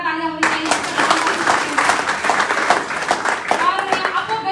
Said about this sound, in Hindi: तो दोस्तों अगेन मैं चाहूंगी एक जोरदार तालियां होनी चाहिए